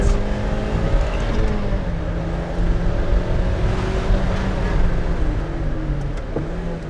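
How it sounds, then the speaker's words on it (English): A modified NB Mazda Miata with hard-biting race brake pads downshifts under braking, the engine droning loudly and blipping as revs shift across the gears, close to the microphone with no talk. "And that was my attempt at heel toe downshifting, which I will not reattempt."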